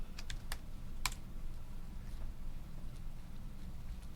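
Keys are tapped while an equation is entered on a calculator, making faint, sparse clicks in an irregular rhythm with a few sharper taps early on, over a quiet room hum.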